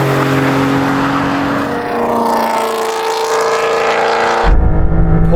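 Porsche 911 at a drag race launch, loud sustained engine roar with tyre-spin noise building, then an abrupt change to a deeper, louder close rumble near the end.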